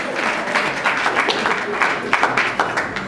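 Audience at an awards ceremony applauding for an artist, a dense, steady wash of many hands clapping at close range that continues for several seconds with no voices over it.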